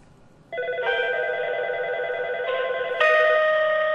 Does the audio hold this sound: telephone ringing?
yes